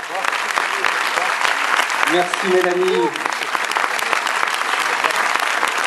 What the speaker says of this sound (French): je vous demande à présent d'applaudir très très fort